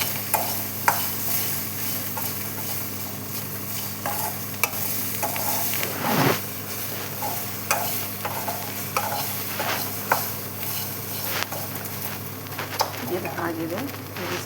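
A sizzling frying mixture seasoned with salt is stirred in a pan, giving steady crackling hiss with repeated scraping strokes throughout and a sharper louder scrape near the middle; a voice talks faintly at times underneath.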